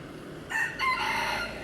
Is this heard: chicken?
yes